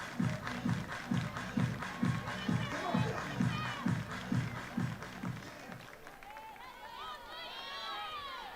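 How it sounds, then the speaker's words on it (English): At a Liberty versus Marist NCAA softball game at Texas A&M, the stadium crowd claps in a steady rhythmic beat for several seconds, then fades into general crowd noise with whistles and calls, faint and distant under talk. "Everybody clap your hands."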